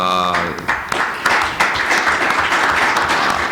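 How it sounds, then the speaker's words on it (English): An audience at a panel discussion applauds the panelists, with dense, sustained clapping filling the room after a brief tone at the start. "Let's applaud them."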